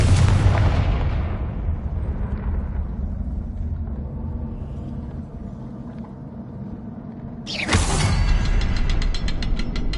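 A Confringo fire-blast spell in Hogwarts Legacy on PS5 erupts in a loud booming explosion that rumbles and slowly fades, then a second sharp blast bursts out near the end.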